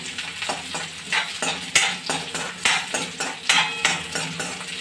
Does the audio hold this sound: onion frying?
yes